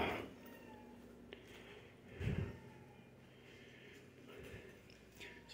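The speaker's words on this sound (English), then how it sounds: "Lots and lots of cats." Cats in an animal shelter's cat room give faint, scattered meows against a low room hum, distant and quiet, with a few small bumps and rustles.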